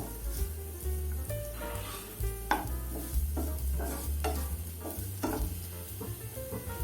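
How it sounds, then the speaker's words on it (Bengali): Chopped onion fries lightly in a pan after ginger and garlic, stirred steadily with a spatula, giving a soft continuous sizzle broken by scraping strokes and occasional clinks, close and without talk. "আমি দিয়ে দিচ্ছি এখানে চপ করে রাখা পেঁয়াজ। আমি এখানে খুব লাইটলি ভাজবো।"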